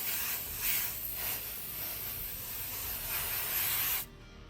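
Air filter oil sprays steadily from an aerosol can onto a foam air filter, a continuous close hiss with slight surges for about four seconds before it cuts off abruptly.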